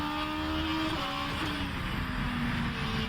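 A 2023 hypercar engine in the rFactor 2 racing simulator drones continuously at steady high revs, loud and close, with tonal harmonics shifting slightly as the pitch changes.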